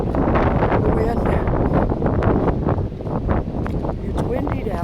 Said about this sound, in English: It's windy down here. It's very windy.